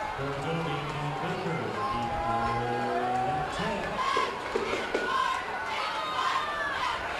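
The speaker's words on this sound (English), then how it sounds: "as you can hear their crowd get fired up a little bit" Home crowd at a North Bend high school football championship game against Baker, a steady roar of shouting and cheering rising around a big third-down play, with voices calling out over the din throughout.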